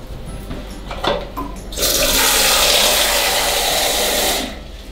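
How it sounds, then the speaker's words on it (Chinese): Water from a tap or bucket gushes loudly into a squat toilet in a Turkish home bathroom, a sustained splashing rush lasting a few seconds after some faint handling noises, then cutting off abruptly. "自己冲水。"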